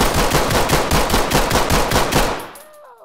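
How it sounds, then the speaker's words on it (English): Rapid automatic gunfire in the tactical police shooter game Ready or Not: a loud, close string of about a dozen shots at an even fast rhythm, ending in a fading echo tail. "Shots fired, shots fired, officer down."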